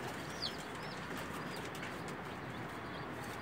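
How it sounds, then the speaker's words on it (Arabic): A pouter pigeon gives faint, soft cooing calls against a quiet, steady background hush. "النهارده هنتكلم عن حمامه النفاخ"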